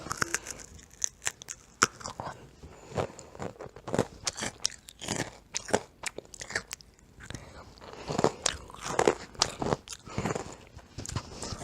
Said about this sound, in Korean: 이 쿠키를 먹을게요, 또